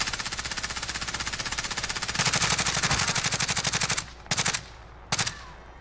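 Sustained automatic gunfire aimed at a helicopter in Call of Duty Warzone, a fast continuous rattle of rounds that gets louder midway, then breaks into two short bursts with pauses between.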